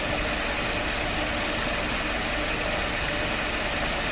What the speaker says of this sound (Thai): เสียงการทำงานปกติ แอร์ตัด เสียงเครื่องยนต์ปกติ